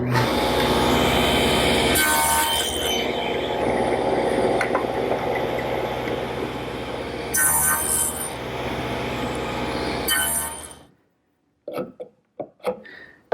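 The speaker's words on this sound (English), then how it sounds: "Now I've installed my tenoning jig on the table saw, and this is really the ideal tool to make the cheek cuts on the tenons" A table saw with a tenoning jig cuts tenon cheeks for a turkey table, a loud continuous whine with a few sharper surges, then stopping abruptly and leaving a few faint knocks.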